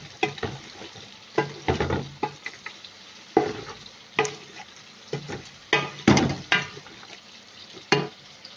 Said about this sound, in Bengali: এখন আমরা এখানে যে মোরগের মাংসগুলো ফ্রাই করে রাখছি, এগুলো আমরা এখানে দিয়ে দিব। এগুলো আমরা এখন আবার এগুলো একটু কষাবো।